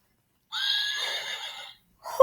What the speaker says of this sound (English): Touch the horse's mane, touch the horse's hair to hear her neigh.